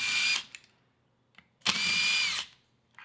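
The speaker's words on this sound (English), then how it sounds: "Use an impact drill with a 5mm hex attached to remove the retaining bolts" An impact drill fitted with a 5mm hex bit removing the retaining bolts from a valve cover: two short high-pitched whirring bursts separated by a pause, close and clear, with faint clicks in between.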